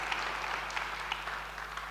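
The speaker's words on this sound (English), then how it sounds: "I think we do a round of applause for that" Audience applause at an annual general meeting, a soft, fairly distant patter of clapping with a low steady hum beneath, no voices over it.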